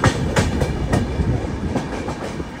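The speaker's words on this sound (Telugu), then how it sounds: "ఆపోజిట్ ట్రాక్ లో ఏదో ట్రైన్ వస్తుంది." A train passes on the opposite track beside a moving express, its wagons rattling with repeated clickety-clack wheel beats and a heavy rumble, loud and close throughout.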